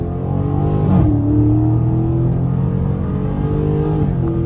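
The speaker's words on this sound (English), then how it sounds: "I'm literally just dropping gears and I'm hitting the gas" A widebody Dodge Challenger Scat Pack in track mode revs hard as gears drop, a loud steady engine roar with a shifting pitch and a brief surge near the start, close and continuous with no talk.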